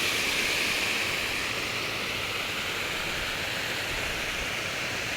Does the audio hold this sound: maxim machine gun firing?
no